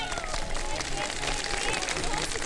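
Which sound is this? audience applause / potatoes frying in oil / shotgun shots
audience applause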